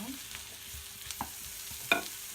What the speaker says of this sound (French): on va y mettre les champignons. On mélange bien.